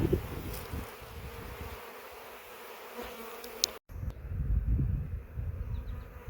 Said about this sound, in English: So the bees are a little bit confused, and they're trying to figure out what's going on here.